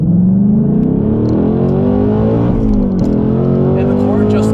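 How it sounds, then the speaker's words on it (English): A 2024 Mustang Dark Horse launches in first gear with steering input, its engine note climbing loud and close through the revs, with a brief dip before pulling on strongly. "first gear, steering input, and just essentially launching the car"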